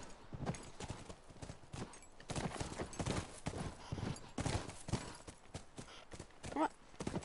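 Rhythmic clip-clop of a video game horse's hooves trotting, close and steady throughout, with a brief whinny-like sound near the end.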